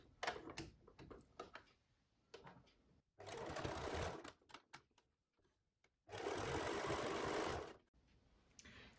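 Sewing machine stitching fabric for a Roman blind, two steady whirring runs of a few seconds each, close and fairly loud, separated by quiet handling clicks.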